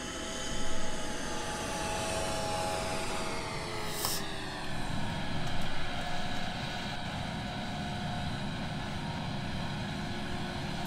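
A steady, loud airplane engine drone at 60% throttle in the Roblox flight simulator game, holding a continuous roar with slowly shifting tones and a brief higher whine partway through.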